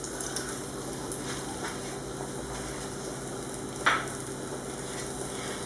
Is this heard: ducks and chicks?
no